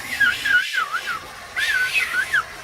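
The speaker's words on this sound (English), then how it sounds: "Perfect, yes, I whistled over the loop" A person whistling a wavering, warbling tune in two bright phrases separated by a short pause, close and clear over a quiet background, ending with a brief click.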